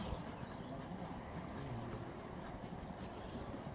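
Horse trotting in a riding arena at a dressage event in Gunzenhausen: faint, rapid rhythmic hoofbeats under steady background noise, with a voice calling commands.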